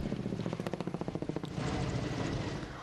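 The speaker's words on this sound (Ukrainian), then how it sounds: "літаки та гелікоптери, що скидають воду" Helicopters fight wildfires on the Greek island of Chios, rotor blades thumping in a rapid regular pulse that fades into a broad distant rumble.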